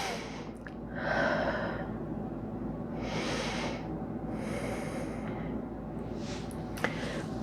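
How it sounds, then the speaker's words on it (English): Slow, deep breaths during a yoga flow, several soft inhales and exhales rising and fading in turn, close and fairly quiet, with no talking and a brief click near the end. "Take a couple deep breaths here."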